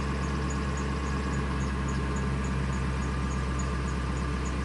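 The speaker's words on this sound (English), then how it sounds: "It's idling real nice and smooth." A 1999 Ford F250 with a 5.4L engine, recently fixed for a surging rough idle, idles steadily and smoothly up close, a constant low hum with a faint, even ticking throughout.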